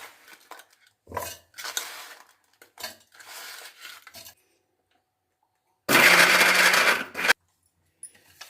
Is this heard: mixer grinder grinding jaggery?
yes